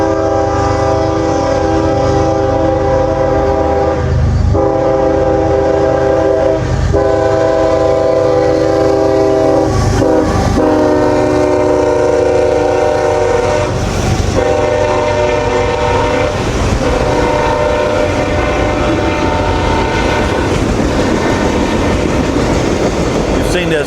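A train passes at Crofton, rumbling and clacking steadily throughout with a prolonged, loud horn sounding in repeated blasts over the wagons' rolling noise.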